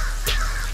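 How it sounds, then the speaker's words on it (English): A single short crow caw, hoarse and mid-distance, rings out over a steady outdoor background hum on a street. "Look at the birds going crazy."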